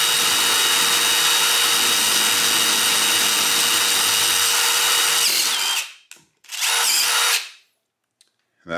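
A handheld power drill running steadily, used with a threader while working on Andis and Wahl clipper blades; the loud continuous whine cuts off, then returns in one short burst before stopping.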